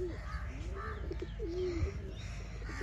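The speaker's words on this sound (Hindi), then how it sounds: "वहाँ पर ऊपर कबूतर भी बैठे हैं" Pigeons cooing nearby at a zoo, soft repeated throaty coos over a low background rumble, with a few faint chirps.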